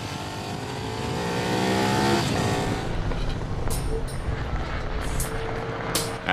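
A Ducati 1198 S motorcycle engine revs up and builds in pitch as it accelerates during a windy test run, peaking then fading, followed by scattered sharp clicks and knocks.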